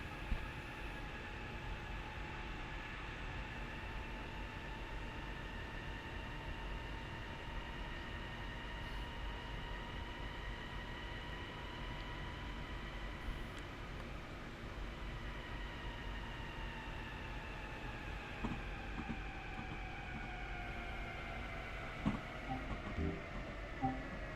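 A rapid transit train in the Train Sim World video game runs steadily throughout, with a continuous rumbling drone and tonal motor whine that slowly shifts pitch, plus occasional clicks and clunks.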